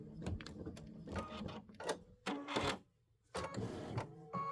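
An Aveneer embroidery machine with a 6x10 hoop stitches out Boo Manor tiles in rapid mechanical bursts, separated by short pauses, loud and close with no talking.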